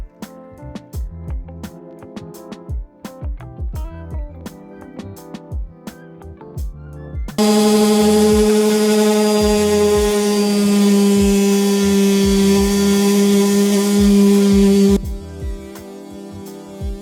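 A power sander with a Gator sanding disc grinds steadily and loudly through paint for several seconds, its droning whine bracketed by sparse, clattering handling noises before and after.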